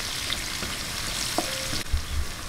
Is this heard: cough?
no